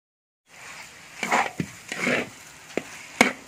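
Soaked semolina for halwa is stirred and roasted in a pan, giving a few soft scraping strokes and faint sizzles spaced apart, quiet and close.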